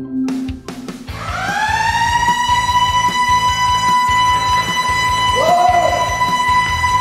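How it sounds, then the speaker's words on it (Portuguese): Loud wailing emergency siren of an airport fire brigade at Natal airport in Brazil, rising to a sustained tone and holding close, with a second pitch bending in near the end. "E caso a sirene de emergência toque, os homens do Corpo de Bombeiros têm que agir com rapidez."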